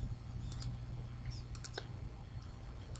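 Faint, sparse computer mouse clicks while working in CAD software, a few scattered light taps over a soft steady hum, with no talk.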